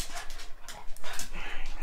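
Dogs pant and whimper in a quick, breathy, uneven series of bursts, fairly close by, with someone stretching on the floor of a room nearby.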